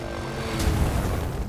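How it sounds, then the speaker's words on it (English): A helicopter used to capture and assess Sierra bighorn sheep drones steadily overhead, a continuous rotor-and-engine rumble at moderate loudness with no voices. "50 years later, we're still using helicopters to capture and assess sheep."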